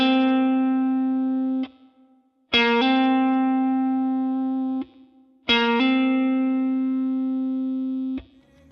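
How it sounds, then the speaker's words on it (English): Clean, sustained electric guitar notes, each plucked then followed by a quick second note sounded by a hammer-on without a fresh pick, repeated three times with short gaps. "A hammer-on sounds something like this."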